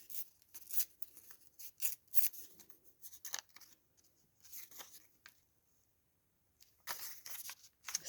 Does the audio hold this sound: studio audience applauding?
no